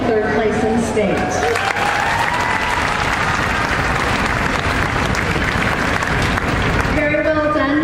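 An audience at an opening ceremony bursts into loud, steady applause for the teams, a dense wash of clapping lasting several seconds with some cheering, and a voice speaking at the start and end.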